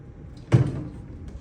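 A wardrobe door in a King Deluxe hotel room at the Hilton Kuala Lumpur opens with a single short, close knock and rattle that fades into a quiet room.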